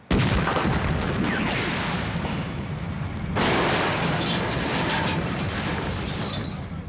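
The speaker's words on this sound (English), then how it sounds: "After successfully completing the cable car explosion" A cable car explosion set off as a movie special effect gives a sustained, loud, rumbling roar with crackling debris that carries on for several seconds, surging again partway through.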